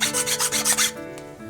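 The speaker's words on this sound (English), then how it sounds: "filing does the trick." Hand filing squares up the cut face of a piece for a model station building: about seven quick, even rasping strokes close by, then a quiet tail with a faint tap.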